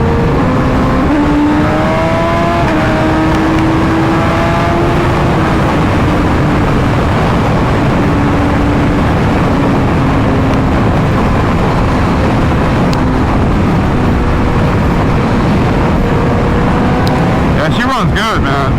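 A 2020 BMW S1000RR sport motorcycle engine runs loud and close, holding a steady idle and then rising and falling in pitch as it revs, with a voice speaking over it.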